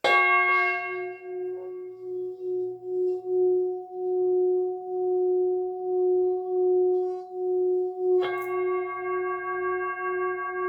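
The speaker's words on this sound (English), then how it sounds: "I'm going to end it with a bit of my big musical sound bowl" A large singing bowl rings with a long, steady, pulsing hum, then is struck again near the end, its bright overtones swelling back.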